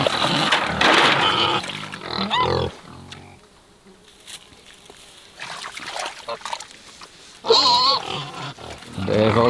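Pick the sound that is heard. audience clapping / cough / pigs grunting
pigs grunting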